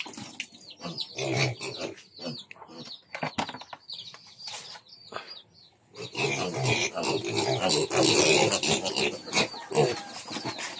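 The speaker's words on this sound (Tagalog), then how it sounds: "Ito yung agak ng mga biik mga kaloy." Piglets squeal and grunt in bursts, becoming a dense, noisy chorus of squealing and snorting that continues close by.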